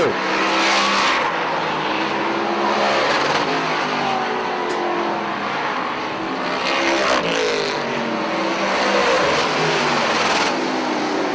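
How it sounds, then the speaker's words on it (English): Dirt modified race cars at a speedway in Plattsburgh, NY, engines roaring loudly and continuously as several cars run close together, with rising and falling revs as they pass through the turns. "Can Mueller chase down Leon Gagnon, who is about 4 to 6 car lengths in front of Mueller off of turn number 2"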